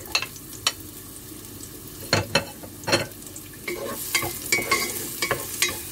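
Garlic frying in a pan for chicken with cauliflower and bell pepper, a steady sizzle broken by repeated scraping stirs and utensil clacks against the pan, close and fairly loud with no talking.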